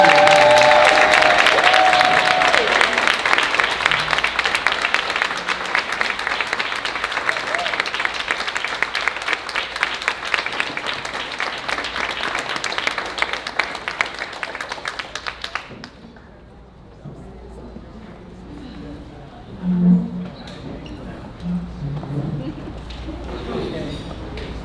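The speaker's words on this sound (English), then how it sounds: "stand on your feet and give her a round of applause tonight" At a commencement ceremony, an audience rises for a standing ovation, with loud, dense clapping and some cheering that slowly fades and stops abruptly around fifteen seconds. Quieter murmuring and a voice follow.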